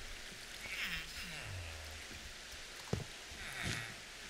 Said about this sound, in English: Rainy weather.